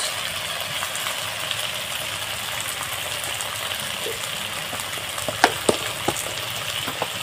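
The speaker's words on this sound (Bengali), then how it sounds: "এই পেঁয়াজের সাথে লঙ্কার গুঁড়ো আর এই মাছের তেল আর পেঁয়াজটাকে ভালোভাবে ভেজে নিয়েছি" Sliced onion fries with red chili powder and fish oil in a pan for a fish-head curry, a steady close sizzle with a few sharp crackles and stirring taps near the end.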